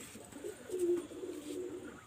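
Teddy and Chinese breed pigeons coo softly at close range, a faint throaty rolling coo with one brief swell in the middle, over a quiet background.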